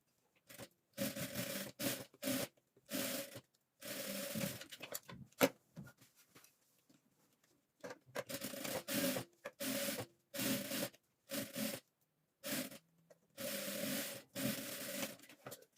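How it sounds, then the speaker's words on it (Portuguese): A sewing machine stitches fabric strips together for a patchwork rug, running in repeated short bursts separated by brief pauses, close and fairly loud with no talking. "agora eu vou fazer uma costura aqui pra poder emendar as tiras"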